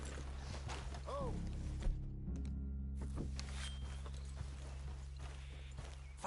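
Horses' hooves clip-clopping at a walk in the video game Red Dead Redemption 2, soft and steady beneath a low ambient drone, with a few tonal accents and a brief quieter gap.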